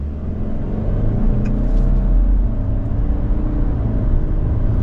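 Steady road rumble and wind rush fill the cabin of a moving 2024 Subaru Legacy Sport, a constant low drone with no talking.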